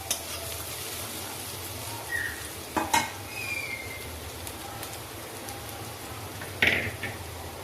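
Onion fried well in a pan with ground spice paste added, a soft steady sizzle under occasional clinks and scrapes of a utensil against the pan.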